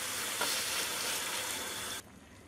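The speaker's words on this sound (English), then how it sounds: "I just added 2 cups of water from the tap, really hot water, or you can use your boiling water" Hot tap water pours into a pot of vegetables for fish broth, a loud steady rushing hiss for about two seconds that then cuts to a quieter simmering wash.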